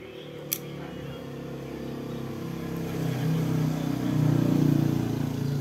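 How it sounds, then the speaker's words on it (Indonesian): A motorcycle passes along a road, its engine hum swelling louder and rumbling closer toward the end, over a steady background drone with a sharp click early on. "Ada motor mau lewat."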